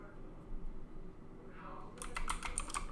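Rapid typing on a computer keyboard, a dense run of clicks and clatter that starts about two-thirds of the way in and sits close, over a low steady room hum.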